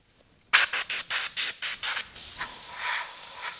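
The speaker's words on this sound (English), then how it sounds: "So let's get to spraying." An airbrush sprays paint in about seven quick, evenly spaced bursts of hiss, followed by a softer, steadier spray at the end.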